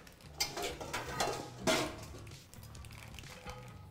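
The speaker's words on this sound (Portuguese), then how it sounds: "Deixa eu pegar uma panela." A metal cooking pan is picked up in a home kitchen, making a brief clatter of metal on metal with a sharper clink near the middle. Fainter handling knocks come before and after it, and no voices are heard.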